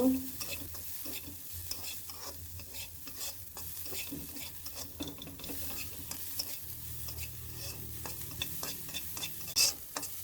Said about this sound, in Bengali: এখন আমার বাসায় কিছু ক্যাপসিকাম ছিল, সবুজ ক্যাপসিকাম একটু দিয়ে ভেজে নেব।